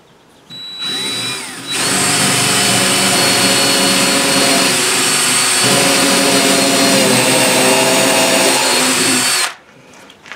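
A loud power drill with a 1/4 inch bit whirs in a steady high-pitched whine for about eight seconds while drilling a pilot hole, with a short lower spin-up just before it.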